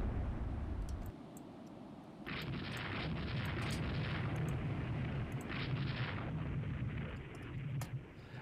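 Deep, rumbling booms from a battleship's big guns roll over a constant low drone of naval battle in the Rule the Waves 2 video game, with repeated heavy salvos blending into a sustained thunderous roar.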